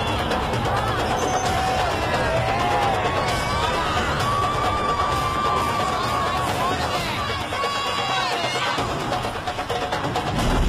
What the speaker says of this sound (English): a huge crowd has gathered